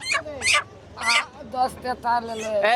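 Chickens for sale call out in several short, close, squawking clucks in quick succession, loud and distinct against a quiet background.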